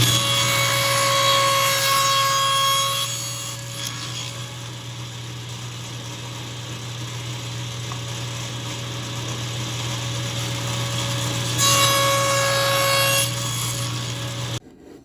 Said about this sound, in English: cut our miters on either end of the pieces, and we'll do that over on the crosscut sled also